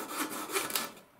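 Light sanding of a small balsa-type wooden part for a model flying wing fuselage after a razor-saw cut, a couple of short close rasping strokes at moderate level.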